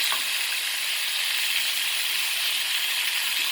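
Ling fish fries in hot oil, Cajun style, while being turned with two spatulas: a steady, even sizzle and hiss with a faint scrape near the start.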